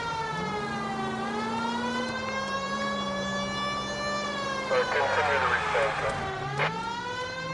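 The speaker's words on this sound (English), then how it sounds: "Brody, not hear the siren?" An emergency vehicle siren in a video game (L.A. Noire) wails with rising and falling pitch, fairly close and steady, while a voice speaks briefly over it.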